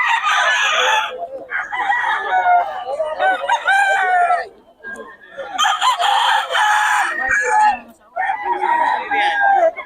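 Many chickens and roosters at a market crow and cluck loudly and continuously, with overlapping calls close by and a few short gaps, while people talk in the background.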